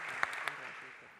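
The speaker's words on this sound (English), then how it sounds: "Applause for that." Audience applause at a conference plenary session in Helsinki: a brief, soft patter of clapping with a couple of sharper claps, fairly quiet and distant-sounding.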